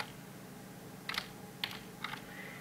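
A few quick keystrokes on a computer keyboard while entering a terminal command, sparse clicks in small clusters over a steady background hiss.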